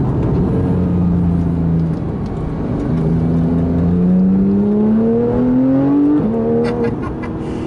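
A 2014 Porsche 911 GT3 engine accelerates hard in manual mode, its loud rising drone climbing in pitch and dropping sharply at quick gear shifts, repeating up through the gears, close and steady throughout.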